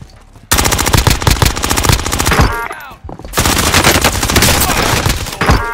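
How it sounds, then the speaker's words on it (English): Automatic sentry gun in a video game opens up with loud, sustained rapid-fire bursts that run almost continuously, broken by one short pause in the middle, with no talking over it. "Enemy sentry gun active."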